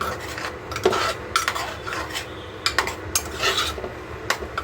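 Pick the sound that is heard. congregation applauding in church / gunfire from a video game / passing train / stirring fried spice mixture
stirring fried spice mixture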